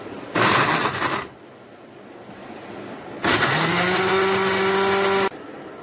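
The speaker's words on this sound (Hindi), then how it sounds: "व्यूअर्स, हमें इसका चाहिए जूस, इसलिए अब हम इसको करेंगे ग्राइंड।" Electric mixer grinder blending aloe vera into juice, two loud motor runs: a short first burst, then a longer whine that rises in pitch as it spins up, with a quiet pause between.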